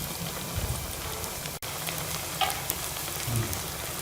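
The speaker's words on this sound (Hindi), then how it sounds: "दोनों साइडों से जो है वो गोल्डन फ्राई आने तक हम फ्राई कर लेंगे।" Potato bites fry in oil over medium heat with a soft, continuous crackle that sounds like light rain, and a few small pops and clicks come through now and then.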